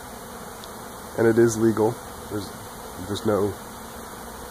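A swarm of bees gives a steady insect hum in the background as it arrives at a trap at a house, while someone talks over it in a few short phrases.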